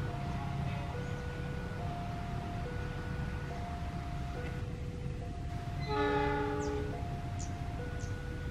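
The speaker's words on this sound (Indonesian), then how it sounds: "ada kereta api yang lewat pagi hari" An Argo Sindoro train rumbles steadily past in the morning while a rail crossing bell dings in a repeating rhythm, and a loud multi-tone train horn blasts midway.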